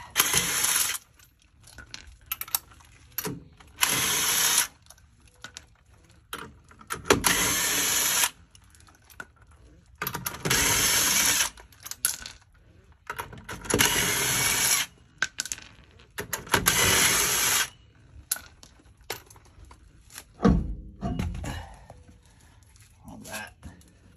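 Bursts of a ratchet or impact tool work the lug nuts on a Ford F150 wheel, loud repeated metallic rattling spells separated by pauses, with talk in between.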